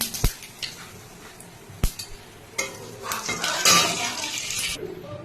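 Dried red chili and white cumin hit hot mustard oil left from frying fish for a Bengali tel koi, giving a few sharp pops and clicks, then a steady close sizzle and crackle that swells and holds to the end.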